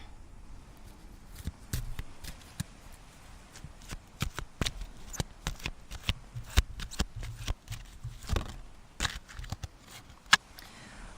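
Kipper fortune-telling cards being shuffled, giving a quiet run of soft riffling snaps and slaps at an irregular rhythm, with no talking.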